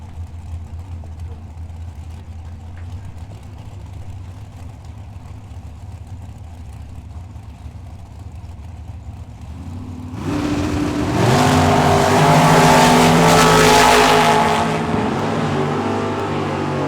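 Drag racing cars at the Hangover Nationals launch with a sudden loud engine roar and rising rev that swells over a low idling rumble, peaking for several seconds before easing off, with no voices.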